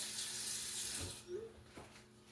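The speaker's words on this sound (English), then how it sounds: "now I'm just going to rinse this with cold water" Cold tap water running over cooked macaroni pasta in a kitchen sink, a soft steady splash that cuts off partway through, followed by faint handling clatter.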